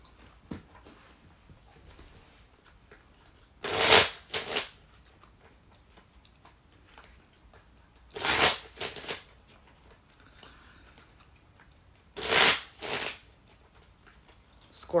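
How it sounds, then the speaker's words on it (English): Tarot cards shuffled in three separate bursts of crisp riffling, each a quick double rush, spaced several seconds apart with quiet between. "I started shuffling the tarot first, so let's just go with that."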